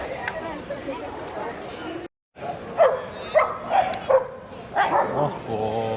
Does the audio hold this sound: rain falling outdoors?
no